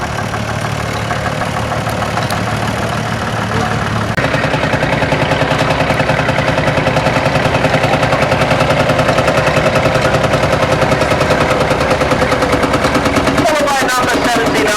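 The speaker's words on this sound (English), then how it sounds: "the distinctive sound of a field marshal making its way towards us now" A vintage Field Marshall tractor's engine drives past at a rally, a loud, continuous rapid chugging throb that holds steady for the whole stretch, heard close.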